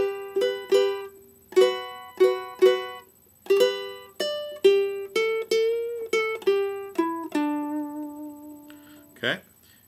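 Ukulele playing a song's intro, with a quick run of bright plucked notes and double stops in a bouncy rhythm that ends on a bent, held note, heard close and clear with a short strum at the end.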